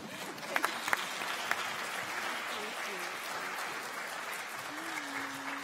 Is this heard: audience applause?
yes